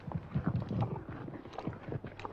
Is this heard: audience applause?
no